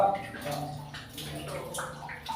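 Water being pumped out, a steady watery gurgling and splashing running throughout, with voices talking over it.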